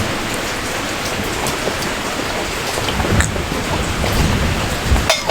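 Steady heavy rain pours down on a surface, a dense continuous hiss with scattered louder drops and patters, loud and close throughout, with no voices.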